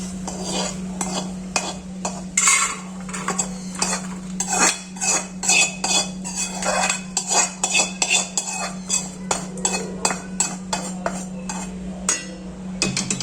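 A freshly roasted ingredient for antina unde is moved from the pan into a pot, with close, repeated metal utensil clinks and scrapes in an uneven rhythm over a constant low electrical hum.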